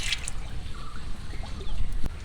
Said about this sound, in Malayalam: കുറച്ച് ഓയിൽ ഒഴിക്കാം ആദ്യം